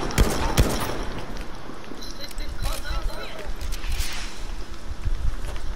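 Gunfire in a small WW1 battle reenactment at Arras: a few sharp shots up front, then scattered cracks, with voices talking throughout.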